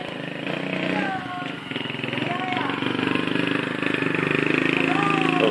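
A motorcycle engine runs with a steady, buzzy drone on a road trip in Vietnam, fairly loud and continuous, while people talk over it.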